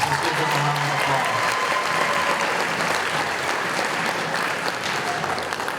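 An audience applauds the parents and families at a high school athletic signing event, steady sustained clapping that fills the room, with faint voices underneath.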